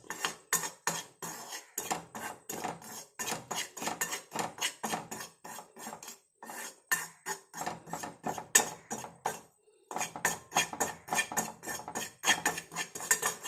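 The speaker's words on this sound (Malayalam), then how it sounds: "ഇത് നല്ലപോലെ ഫ്രൈ ആക്കി എടുക്കുക" Spoon scraping and clinking against a pan while tea powder is stirred and fried for a homemade hair dye, a steady run of close, rhythmic metallic strokes with brief pauses.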